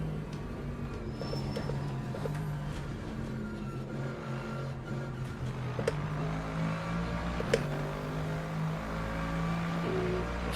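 Lexus race car engine in the Le Mans Ultimate racing game at Sebring, a steady droning engine note held through a straight with slight pitch shifts and occasional gear-change blips, heard from the car itself without talk.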